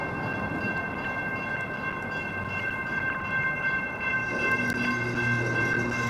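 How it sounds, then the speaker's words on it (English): A freight train idles on a track beside a biking trail, its steady rumble and tonal hum filling the scene, with a low droning swell rising near the end as the cars begin to move; no one speaks. "There's a train sitting on the train track here."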